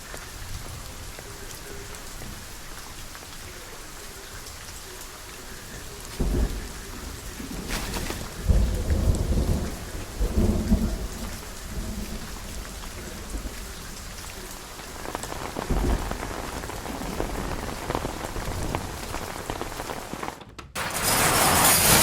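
Steady rain falls throughout, with several heavy rumbling thunder bursts rolling in and out over the downpour.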